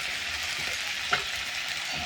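Onions browning in a pan after ginger-garlic paste goes in, giving a soft continuous sizzle with a small splutter midway, quiet and with no talking.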